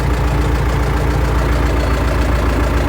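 Tractor engine with all-wheel drive runs steadily at constant revs while pulling a seedling transplanter planting cabbage in a field, a loud continuous low rumble throughout with no talk.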